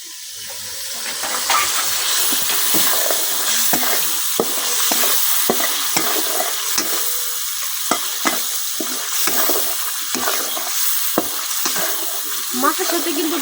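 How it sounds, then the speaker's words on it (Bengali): Singi fish being stirred into tomato spice masala in a pan, a continuous oily sizzle broken by repeated scraping clicks of a spoon against the pan, close and fairly loud. "মাছের সাথে কিন্তু মশলাটা আমি খুব ভালোভাবে মিশিয়ে নিচ্ছি।"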